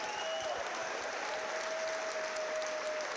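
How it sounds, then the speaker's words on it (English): Steady applause from a crowd filling the whole stretch for two amateur MMA fighters in the cage at Wolkernite Fight Championship 7, even and sustained with no pauses. "Can we please get a round of applause for both fighters in the cage"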